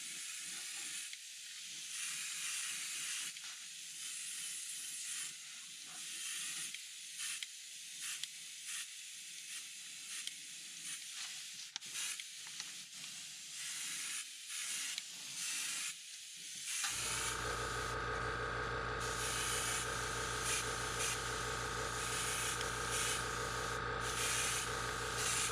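Spray gun laying a light coat of paint on Bandit fishing crank baits, a steady airy hiss with intermittent bursts, becoming a louder continuous compressor-driven rush near the end, close and without talk.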